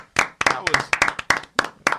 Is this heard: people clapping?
yes